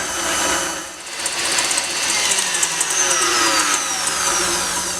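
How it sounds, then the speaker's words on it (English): An electric mixer whisks egg whites with vanilla for royal icing, giving a steady, close, buzzing whir with rattling beaters that runs unbroken through the whole stretch, with no talking. "start whisking it about 2 minutes"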